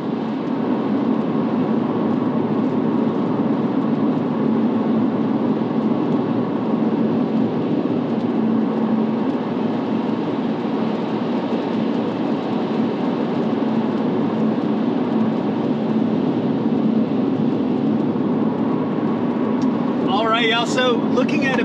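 A steady roar of road noise heard from inside a moving car, with a hiss of tires on wet pavement throughout as a passing car throws water at it, and no voices.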